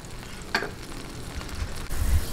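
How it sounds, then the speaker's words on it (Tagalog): Vinegar for a sweet and sour fish dish boils hard in a pan, giving a steady close bubbling hiss with one brief clink partway through. "pagka po ganitong kulong-kulo na, luto na din po itong suka"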